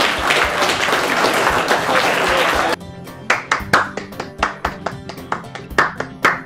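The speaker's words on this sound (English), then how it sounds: "So a big round of applause for everybody." Audience applauding at a Warhammer team tournament at Giant's Lair, dense sustained clapping that breaks off partway and gives way to scattered, individual claps.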